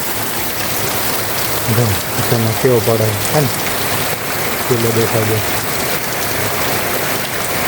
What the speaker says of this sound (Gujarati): આ બાજુ ફૂલ વરસાદ વરસાદ